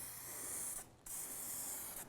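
Eastwood 2K Chevy orange engine paint sprayed from an aerosol can, two close, loud, steady hissing bursts separated by a brief pause.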